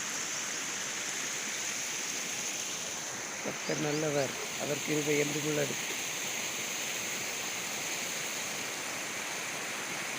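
Water pouring steadily into an irrigation canal, a broad continuous rushing hiss that stays even from start to end, with a voice speaking briefly over it midway.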